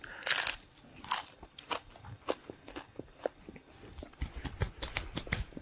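A thin slice of microwaved ham is bitten and chewed close up, giving a string of sharp dry crunches and crackles, sometimes in quick clusters, with quiet pauses between bites.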